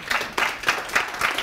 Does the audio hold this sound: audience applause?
yes